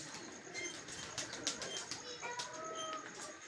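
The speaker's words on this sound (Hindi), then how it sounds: "अब कबूतर कुछ ज़्यादा ही हो गए हैं" Soft bursts of pigeon wings flapping nearby, several quick flutters against a quiet background with faint bird sounds.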